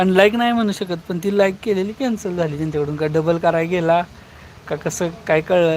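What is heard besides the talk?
None of the usual background noises is heard.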